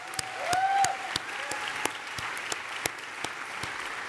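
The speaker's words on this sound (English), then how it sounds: "I think that's a round of applause" Audience applause at the One Young World 2011 Global CEO Panel: dense, steady clapping from a large crowd in a hall, swelling slightly early on and then holding at an even level for the whole stretch.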